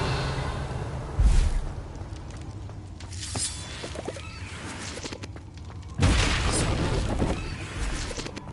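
A Confringo blasting curse goes off in Hogwarts Legacy, with two heavy booms around the second and sixth seconds, each followed by a broad crackling burst that fades over a steady game background.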